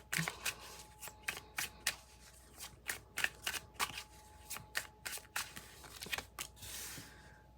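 Tarot cards are shuffled and handled in a quick run of crisp riffles and snaps, close and fairly quiet, repeating at an even pace.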